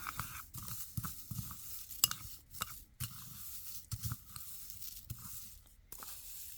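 Loose sequins and little diamond dots in a container are stirred and shaken into a spring mix, making a soft, steady rustling, crunchy rattle with scattered sharper clicks, close and fairly quiet, with no talking.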